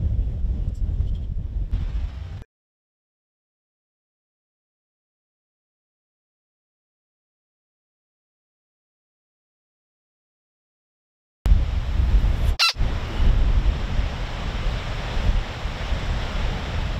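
High winds buffet a grass field during an October bowhunting outing, a loud steady roar of gusts and microphone wind noise that cuts out into silence for several seconds before returning.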